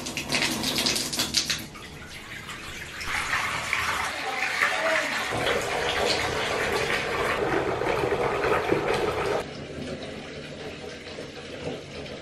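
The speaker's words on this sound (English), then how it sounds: "I'm gonna start by running myself a bath." Water gushes from a tap into a bathtub being filled for a bath, a loud, steady rushing stream nearby that shifts in pitch and weight as the flow changes.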